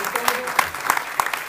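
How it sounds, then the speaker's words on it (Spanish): Audience applause at a book presentation in Xalapa, a steady patter of many clapping hands with a few louder claps standing out over a short span. "un aplauso por favor para Pablo."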